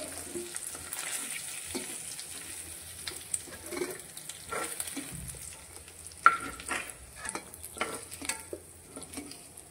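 Bombay duck fish sizzles quietly in a pan as pieces are turned and lifted out, soft scraping and occasional clinks, close by.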